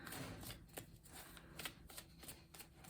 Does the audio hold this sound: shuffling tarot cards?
yes